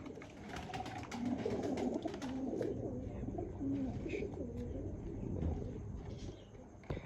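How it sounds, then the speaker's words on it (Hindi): Teddy pigeons coo softly and repeatedly on a rooftop, their low burbling calls overlapping against a steady background hum, with occasional faint chirps. "रंगीन कलर में आपको टैडी कबूतर दिखा रहे हैं"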